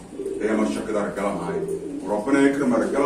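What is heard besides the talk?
breeding pigeons cooing in a loft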